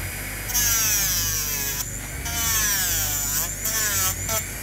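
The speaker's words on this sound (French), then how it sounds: "soit avec une ponceuse" An electric nail file sander shortens acrylic gel nails on dual forms, giving a steady high motor whine that wavers in pitch as the bit presses and lifts, close and fairly loud.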